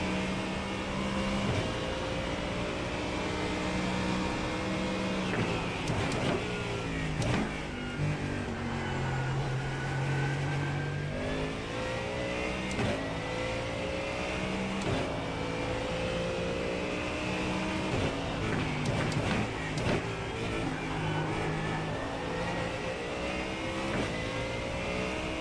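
GT race cars, including a Mustang GT3, driving on a racetrack, with steady engine drone rising and falling through gear changes and passes over about twenty-five seconds, moderately loud and free of talk.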